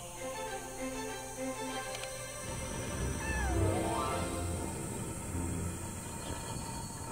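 A cat meows a few times in the video game Yonder: The Cloud Catcher Chronicles, with rising and falling calls over a steady game soundscape and a rumbling swell in the middle.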